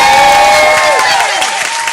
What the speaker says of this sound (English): Will you give Lorraine a round of applause